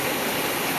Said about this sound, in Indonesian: Deru sungainya juga kelihatan sangat jelas dari